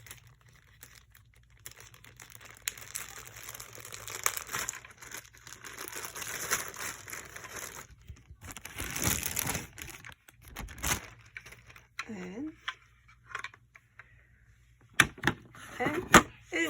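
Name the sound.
plastic bag crinkling while unboxing a magnetic clip hoop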